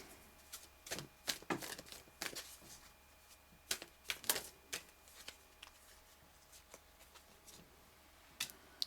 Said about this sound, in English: I'm just going to pull one more card.